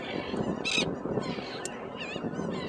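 Several gulls call out in short, harsh honking cries at a distance on a beach, scattered over a background of wind and surf.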